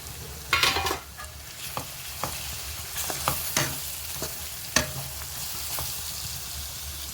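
Homemade masala stirred into mutton kardi vegetable frying in a pan, with soft sizzling under a series of sharp spoon scrapes and knocks against the pan, close up and without voices.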